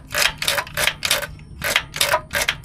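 A sticky transmission selector input shaft is worked back and forth, giving a rhythmic series of about eight close, gritty mechanical clacks and slides.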